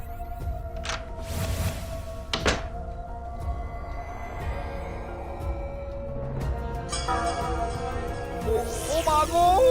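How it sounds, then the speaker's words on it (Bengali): A door is pushed and banged at night: two heavy, hollow thuds land in quick succession early on, set against a steady background hum and music-like tones. "আর আর আমাদের দরজা ধাক্কাও দিল।"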